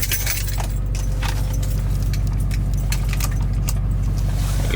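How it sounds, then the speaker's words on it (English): Keys jangle and clink briefly over a steady low engine hum, with scattered small metallic taps throughout. "I'll go ahead and throw the keys in it"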